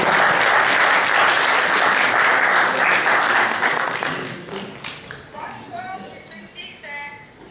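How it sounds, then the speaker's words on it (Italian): A crowd at a public talk in Jesi claps loudly and densely for about four seconds. The clapping then thins and fades, and a voice takes over alone. "Fammi un applauso in diretta a Federica Sciarelli"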